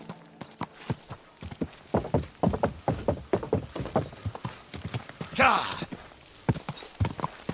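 Horse hooves in Kingdom Come Deliverance 2 clatter on a town street, a steady run of sharp clip-clop strikes close by, with someone talking over them and a short snort or whinny midway.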